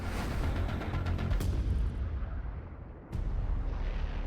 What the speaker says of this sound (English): they get hit with incoming. One by one, they're destroyed.